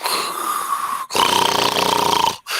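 A person snoring loudly and close, one raspy drawn-out breath after a quieter stretch, the snores separated by brief silent pauses.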